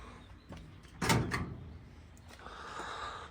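Big drawer of a sturdy rolling toolchest slides with a scrape and a clunk near the middle, then a softer rolling rumble, close up and without talk.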